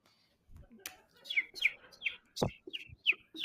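A child imitates a parakeet, making a run of short, high chirping calls in quick succession, close and fairly loud, with a few low bumps in between.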